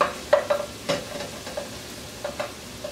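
Vegetables cooking down in a pan with a soft, steady sizzle, broken by several light scrapes and stirs of a utensil against the pan, close and fairly quiet.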